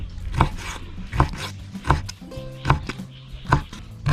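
A knife chops through roasted Indian trumpet tree pod on a board, with about six sharp, loud cuts spaced roughly evenly and close by, plus faint handling noise between them.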